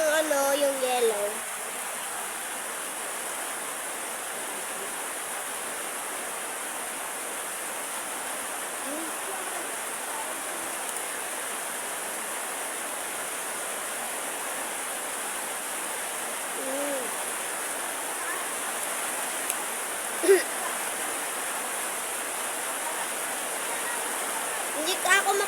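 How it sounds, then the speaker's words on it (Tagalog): Heavy rain pouring down in a steady, dense hiss that fills the whole stretch, loud and unbroken, with a few faint sounds poking through near the start. "ang ulan napakalakas"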